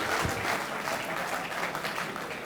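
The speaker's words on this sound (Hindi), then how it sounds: "तो इनके सम्मान में एक बार तालियां बजा दीजिए।" Audience applause at an Independence Day poetry gathering with BSF jawans, a dense, steady wash of clapping heard alone for a couple of seconds.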